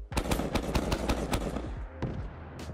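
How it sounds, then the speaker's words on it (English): A 40mm automatic grenade launcher fires in the game Fallout 4, a rapid burst of about a dozen sharp thumping shots in quick rhythm, then a pause and a distant explosion-like crack. "And then finally we have the 40mm automatic grenade launcher."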